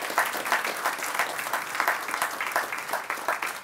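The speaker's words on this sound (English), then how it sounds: "could we please have a round of applause for all the elected officials" A Flag Day ceremony crowd in Federal Way gives a round of applause for elected officials, steady, even clapping from many hands, moderately distant and fairly soft, with no talk over it.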